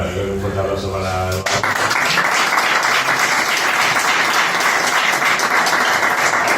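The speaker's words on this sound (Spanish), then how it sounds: "un fuerte aplauso para..." Dense, loud crowd applause at a live book presentation, breaking in after a brief voice at the start and holding steady and close to the end.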